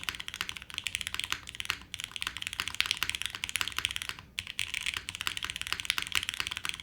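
Continuous typing on a Pixelspace Shadow80 mechanical keyboard, a steady run of close, crisp keystrokes with brief pauses, no talking.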